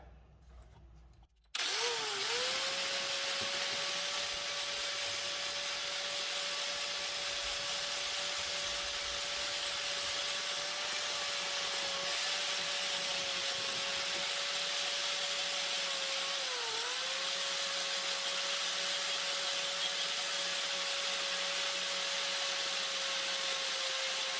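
A power tool grinds material off a metal golf wedge during a refinish, a loud continuous whine with a steady tonal hum that starts abruptly after a brief quiet moment and dips slightly in pitch once under load.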